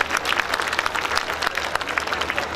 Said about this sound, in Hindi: तो एक बार जोरदार तालियां बजाइए